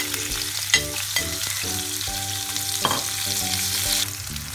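Onions with ginger, garlic and whole spices frying in a pan while being stirred, a steady sizzle under repeated spoon scrapes and clanks against the pan, close and without voices.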